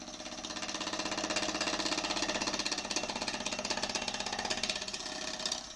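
A gouge cuts an out-of-round wooden bowl on a wood lathe, giving a close, continuous, fast rhythmic chatter over a low motor hum, with no voices.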